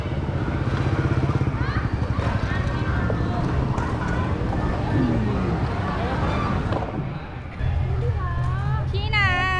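A motorcycle rolls past on a dark plaza street beside a Mindoro night market, its engine drone loud and close beneath steady crowd babble and nearby voices.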